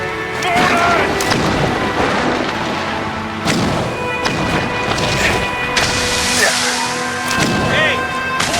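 Heavy mortar shells crash and boom in repeated loud blasts amid battle noise in Assassin's Creed Rogue, with impacts landing every second or two over a dense, continuous din.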